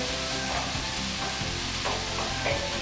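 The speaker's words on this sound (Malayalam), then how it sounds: "വാഴച്ചുണ്ടൊന്ന് ചെറുതായിട്ട് വേവുന്നിടം വരെ വെക്കാം." Banana flower cooks covered in a pan, giving a steady close sizzle with soft bubbling and crackle throughout and no voices.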